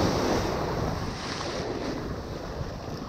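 Ocean surf rolls onto a beach during surf fishing, a steady broad wash of waves mixed with heavy wind rumble buffeting the microphone, loud and continuous with no talk.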